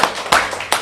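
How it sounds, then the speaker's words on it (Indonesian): Clapping during a public storytelling talk, a few sharp separate claps spaced apart, close and crisp rather than a sustained ovation. "Tepuk tangan."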